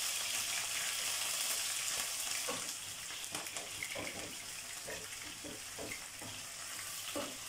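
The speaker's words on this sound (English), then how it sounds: "my oil is super hot. I'm going to be putting onion and give it a light stir." Onion frying in very hot oil, a steady dense sizzle with light stirring scrapes and clinks through the middle, close and continuous throughout.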